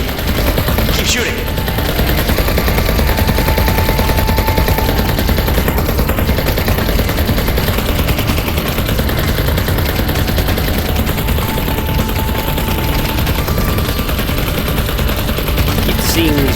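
Sustained automatic gunfire from the VR video game Vertigo 2 in a misty cave battle against a persistent creature, loud and dense throughout, with occasional voice beneath the shooting.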